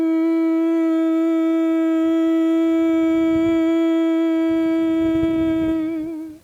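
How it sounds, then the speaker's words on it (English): A steady, sustained hummed note held by several voices, smooth and unwavering, wavering slightly and fading out at the very end. "Let's see how long you can hold this hum for."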